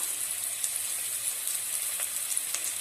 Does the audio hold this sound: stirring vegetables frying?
yes